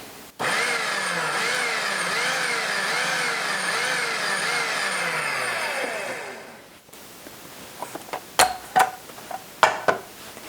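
A food processor motor whirs loudly and steadily for about six seconds, coarsely chopping parsley for a cranberry jalapeño salsa, then cuts off, followed by a few sharp clicks and taps of the bowl.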